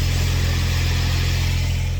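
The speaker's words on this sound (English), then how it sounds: "The car is on and we can hear it idling." A car engine idles at a steady, low, even hum with a constant pulsing rhythm and no change in pitch, quiet and uninterrupted, with no talk.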